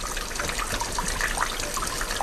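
Water pours or splashes in a steady, continuous wash of noise at moderate loudness, with no voices over it.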